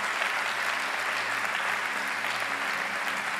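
A church congregation applauds steadily as people come forward at a worship service, a dense, continuous wash of many hands clapping without pause.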